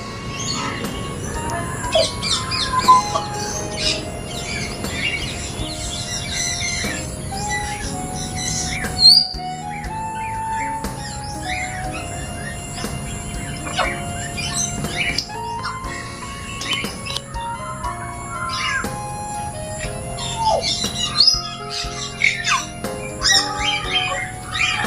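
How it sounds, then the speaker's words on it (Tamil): Pet parrots squawk, chirp and whistle almost continuously at close range on a weekend holiday trip, with sharp overlapping calls and talking-bird sounds layered over a busy background. "கிட்ட போய் பார்க்கலாமா அந்த கிளிகளை?"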